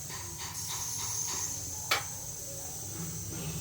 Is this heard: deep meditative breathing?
no